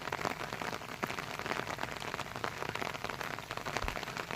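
Rain falls on a farm field, a dense steady patter with scattered sharper drop hits close by, continuous throughout and with no talking.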